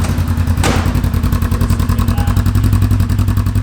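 A wrecked 2015 Polaris RZR 900 S engine runs close and loud, holding a steady, deep, evenly pulsing idle throughout.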